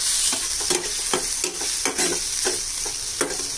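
Pav bhaji cooked with Amul butter is stirred in a pan, regular scraping strokes of a spoon repeating over a steady, bright sizzle, close up with no voices.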